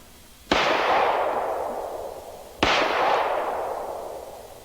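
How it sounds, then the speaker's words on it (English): A pistol firing .45 ACP and .460 Rowland rounds, two single loud shots about two seconds apart, each with a sharp crack and a long echoing decay outdoors. "That's how we can shoot the very mild 45 ACP"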